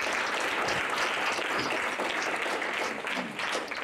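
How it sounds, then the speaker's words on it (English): Conference attendees break into a steady burst of applause, a dense wash of clapping from a moderately distant crowd that holds evenly for a few seconds. "Give these folks a round of applause."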